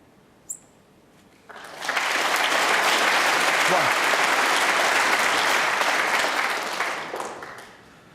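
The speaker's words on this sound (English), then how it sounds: "A generous round of applause for that single pot red" A snooker crowd at the UK Championship breaks into generous applause for a single potted red, rising after a quiet opening with a faint click, holding steady and full, then tapering away near the end.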